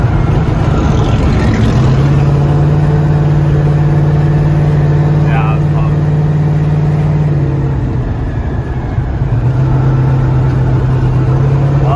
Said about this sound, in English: The turbos are still spinning.